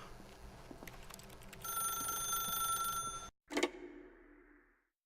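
An old-fashioned telephone bell rings steadily in the video game The Stanley Parable, a sustained metallic trill that cuts off abruptly, followed by a sharp click as the receiver is picked up.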